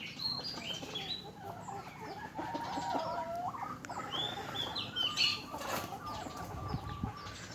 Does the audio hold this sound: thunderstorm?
no